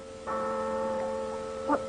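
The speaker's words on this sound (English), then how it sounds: "That's the passing bell for the dead." A church passing bell rung for the dead gives one steady, sustained resonant tone that swells and hangs in the air, with a faint extra strike near the end and no voices.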